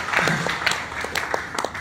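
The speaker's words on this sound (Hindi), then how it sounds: "जोरदार ताली इस दोनों फैमिली के लिए, दोनों पति पत्नी के लिए" Applause for two married couples at a DXN gathering: a crowd claps steadily in a dense patter, fairly loud and close, with no voices over it.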